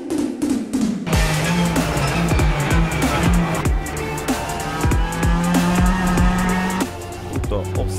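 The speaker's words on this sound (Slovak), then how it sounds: "Takže máme tu prvú fázu, to je brzdenie a podraďovanie." Racing simulator car in a video game brakes hard into a corner, with engine revs climbing and dropping through a rapid series of downshifts, plus tire noise and someone talking over it.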